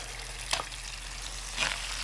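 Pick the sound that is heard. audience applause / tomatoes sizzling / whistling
tomatoes sizzling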